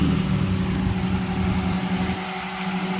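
A car engine idling steadily up close while its coolant is being checked, a low continuous hum with a faint whine and no voices.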